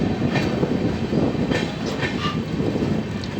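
Down Sairang Kolkata Express pulling out of platform 5 at Azimganj Junction: a loud, steady rumble of rolling wagons with rhythmic wheel clatter and a brief squeal near the end.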